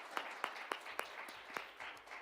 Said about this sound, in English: let's give them a round of applause as they come up and join us here at the table